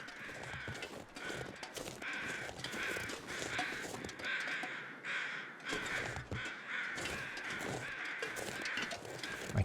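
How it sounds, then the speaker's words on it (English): Crows caw repeatedly in The Long Dark, harsh calls overlapping in an irregular rhythm at mid distance, with a quieter wind-like background and no talking. "Wait, are there crows circling here?"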